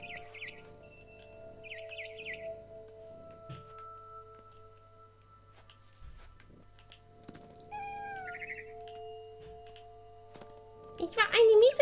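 Stylized cat meows and bird chirps from the video game What Remains of Edith Finch, short calls scattered over a steady game soundtrack drone, with a louder burst of squawking near the end.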